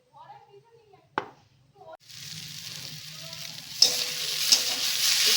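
Onions frying in a pan for potato biryani, a steady sizzle that starts after a sharp knock and builds, with a few clinks as the pan is stirred.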